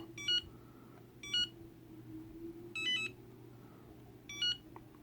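Four short electronic beeps from a Turnigy TGY-iA6C receiver's low-voltage alarm, sounding as a LiPo pack drops below the set threshold; each chirp is high and tonal, spaced about a second apart over a steady low hum.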